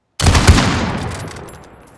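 Rifle volley in a farewell gun salute, one loud simultaneous blast of several rifles firing together, followed by a long echoing rumble that fades out over two seconds.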